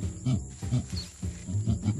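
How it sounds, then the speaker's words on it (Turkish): A gorilla gives a rhythmic series of deep, guttural grunting roars, about five pulsing bursts close and loud, each one swelling and fading in a steady beat. "Goriller böyle ses çıkarır."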